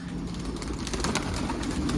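Pigeons coo softly and repeatedly close by, their low throaty calls layered over a steady rumbling background.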